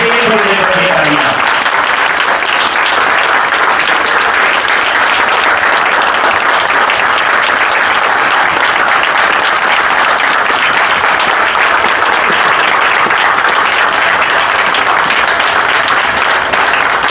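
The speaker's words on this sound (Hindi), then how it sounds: "बचती रहनी चाहिए थोड़ी देर तक ये तालियां।" A crowd at a Delhi event in Shahdara's Rohtash Nagar applauds loudly and continuously for the whole stretch, a dense, even wash of clapping with no clear break.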